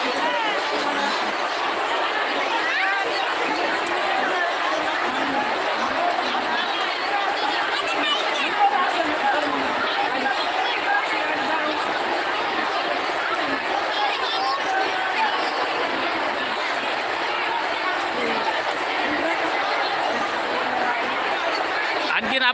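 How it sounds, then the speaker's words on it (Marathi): A large crowd of devotees gathering at Chakarwadi for a religious discourse fills the air with a dense, steady murmur of chatter and movement, while someone talks over the hubbub the whole time. "आपण पाहू शकतो भाविकांची मोठी गर्दी आणखीनही भाविक येतच आहेत"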